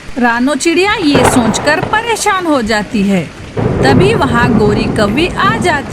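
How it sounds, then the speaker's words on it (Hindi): Steady rain with thunder rumbling in an animated children's story about a sparrow and a crow. It plays under continuous narration and character voices, with the storm sound filling the gaps between lines. "बारिश आज भी हो रही है"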